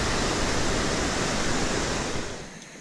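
Rushing water of a crystal-clear river along a jungle trek in Colombia, a steady broadband roar that stays loud and close, easing off slightly near the end with no voices.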